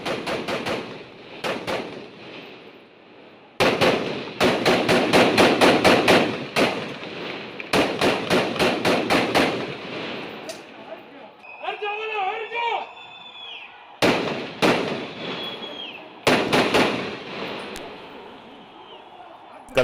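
Gunfire in a gunfight at Kalandia camp between fighters, with rapid bursts of automatic shots and sharp single cracks coming in clusters. Short gaps fall between the bursts, and a narrator speaks over parts of it.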